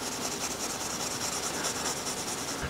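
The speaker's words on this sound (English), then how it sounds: "I'm gonna take a little sheet of this, just kind of scuff up the blade a little bit." Fine steel wool scuffing the blade of a steel camp knife, a steady close dry rasping rub that runs unbroken and fairly quiet, with no talk.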